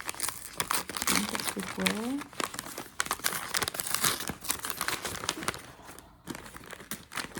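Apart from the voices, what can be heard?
tearing open a wrapped package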